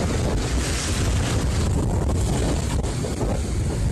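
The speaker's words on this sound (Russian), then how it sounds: "Непогода бушует у побережья Флориды, Алабамы, Миссисипи и Луизианы." Storm wind from tropical storm Cindy on the Gulf coast, a continuous heavy roar buffeting the microphone with steady loud gusts and no voices.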